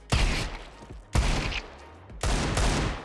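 Automatic gunfire in Counter-Strike 2, three loud close bursts of rapid shots separated by short pauses.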